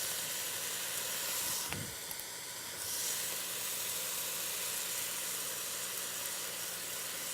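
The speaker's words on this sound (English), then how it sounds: "So the ground beef is cooking" Ground beef cooking in a pan for chili, a quiet continuous sizzle and hiss with a short louder burst of steam early on.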